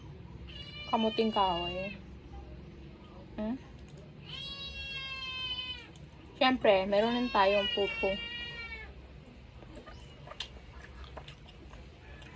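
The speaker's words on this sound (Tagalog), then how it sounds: "Gusto rin kumain ng ating pusa." A household cat meows loudly several times, long wavering cries bunched in two bursts near the mic, while a person talks about food at a market stall in Filipino.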